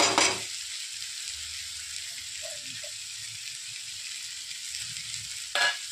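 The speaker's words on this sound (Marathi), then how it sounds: "आता टाकत आहोत आपण डाळ।" Matki dal (moth bean lentils) hits a hot pan with a sharp burst of sizzle, settling into a steady frying hiss before another brief flare near the end; no voices.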